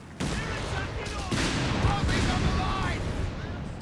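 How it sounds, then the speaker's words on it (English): Artillery and gunfire from a Company of Heroes 3 match, a dense continuous barrage of booming shots and crackling fire at loud level, with battle voices mixed in. "Quite a bit of artillery from Tushkan with 2 bishops and a mortar."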